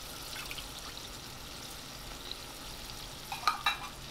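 Sausage frying in grease in a pan, a steady soft crackling sizzle throughout with a few louder pops and spatters near the end, no talking.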